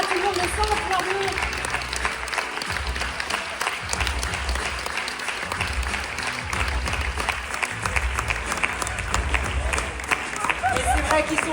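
Sustained applause from a large festival audience in La Rochelle, dense and continuous clapping with crowd murmur and some voices mixed in throughout.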